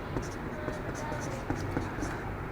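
A pen writes out an NCERT maths example on paper, with short scratchy strokes in quick succession, close and fairly steady.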